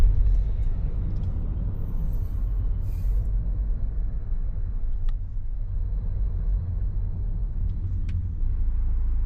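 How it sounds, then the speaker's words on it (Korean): Steady low road rumble from a tourist circulation bus on the coastal Yeongdeok Blue Road near Haemaji Park, a continuous engine and tyre drone with no talk over it. "오, 영덕 블루로드 관광 순환버스도 있네요."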